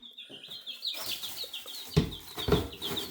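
Chickens cluck and chirp softly nearby, with a steady run of high peeping calls and a few louder clucks toward the end.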